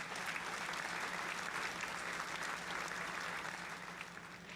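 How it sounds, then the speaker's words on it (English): Applause sound effect played during a livestream: a steady, dense wash of crowd clapping that holds evenly throughout and sits fairly quiet in the mix, with no talking over it. "I think I'll give you a round of applause"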